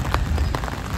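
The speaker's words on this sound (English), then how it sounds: "I'm at the bus stop and it's raining." Rain falls at a bus stop, a loud, steady hiss of drops striking the ground and shelter close by, with a few sharper patters and no talk.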